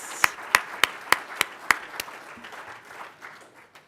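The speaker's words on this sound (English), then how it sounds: "Let's give our sponsors a round of applause and a big thank you" Audience at a World Trade Week NYC event thanking sponsors with brief applause, about seven distinct sharp claps in a steady rhythm that fade into quiet room noise.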